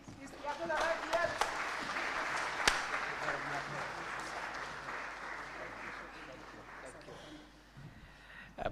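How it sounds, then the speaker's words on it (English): A standing audience at a University of Nairobi job fair keeps up sustained applause to welcome Kenya's Deputy President, with scattered sharper claps and a voice surfacing near the end as the clapping thins. "Keep clapping"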